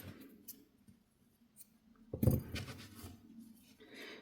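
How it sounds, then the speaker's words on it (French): Scissors snip through crochet yarn once at the end of a finished amigurumi Christmas elf piece: a brief, close crunch of blades, with faint handling rustles around it. "je vais couper le fil"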